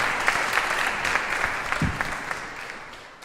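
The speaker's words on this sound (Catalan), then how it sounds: "un aplaudiment a la Bet Prat" Applause for a speaker at a talk on sensory and transmedia marketing, a continuous crowd clap heard alone that gradually fades over three seconds.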